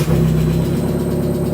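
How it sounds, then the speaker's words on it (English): A car engine running just after being started with new spark plugs fitted, a steady loud idle with a low, even hum that drops slightly in pitch partway through, close by and with no voices. "Let's start the car, see if it works."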